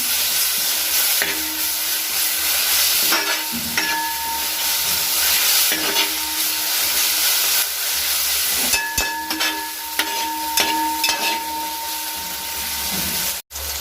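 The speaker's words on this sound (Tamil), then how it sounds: "இப்போ இந்த இஞ்சி பூண்டு பேஸ்ட்டோட இதை நல்லா வதக்கிடுவோம்." Mutton sizzles loudly in a pan with ginger garlic paste for a biryani, steady frying hiss broken by repeated scraping stirs and clinks of a spoon against the pan.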